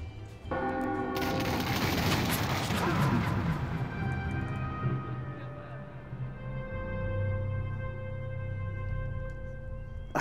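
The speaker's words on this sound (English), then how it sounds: "My gun's firing marshmallows." Gunfire from a marshmallow-shooting gun in the VR shooter Dead and Buried, a loud sustained burst of crashing, rapid shots over about the first five seconds, then fading into a steady humming game backdrop.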